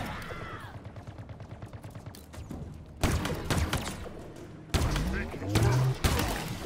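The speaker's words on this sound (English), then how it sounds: "Damn, he threw a grenade." Enemy grenade and combat noise in the Halo Infinite campaign: sharp thumps and gunfire bursts, a rapid rattling run, then loud sudden blasts later on, with a voice talking between them.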